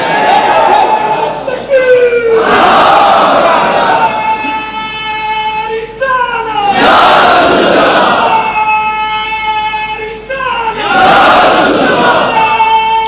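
A large crowd at a religious rally roars chanted slogans in loud repeated waves, each swell answered after a lead voice calls out.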